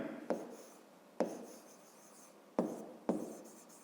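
Pen strokes of a math solution being written out for a fifth-grade triangle problem, four sharp onsets at uneven intervals, each followed by a short scratchy trail, close and fairly quiet with no talking.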